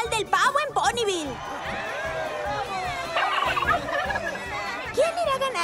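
A voice imitating a turkey gobble at a turkey calling contest, with rapid warbling gobbles and squawks close up, heard alone with lively vocal chatter around them throughout.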